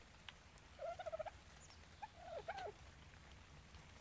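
An Ichthyornis bird in ARK: Survival Evolved gives two short bursts of squawking calls, a rapid pulsed run followed a second later by a second call, fairly close over a faint steady background hiss.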